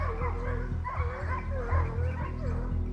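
Hunting dogs bark and yelp in quick, overlapping bursts while chasing a wild boar, a loud, busy pack close by with people talking underneath.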